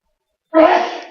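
A single sharp human sneeze bursting out after silence, close and loud, trailing off with a breathy exhale.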